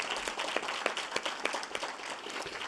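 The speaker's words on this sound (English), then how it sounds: "Let's give Student Affairs a round of applause." An audience at a spring faculty and staff assembly applauds, a steady wash of many hands clapping, heard from a distance and fairly soft throughout.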